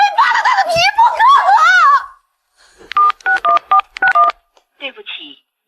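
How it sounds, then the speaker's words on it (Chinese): A telephone number is dialed: a quick run of about six electronic keypad beeps and a short tone follow an agitated shouting voice. "打电话，快给陈平安那个打电话，让他马上带着钱滚回来付钱"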